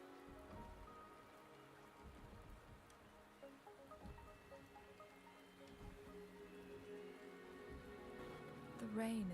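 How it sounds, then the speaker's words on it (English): Rain falling in the video game Wuthering Waves, a soft steady patter with scattered drops, faint and continuous throughout. "The rain is subsiding, and the sky will soon clear."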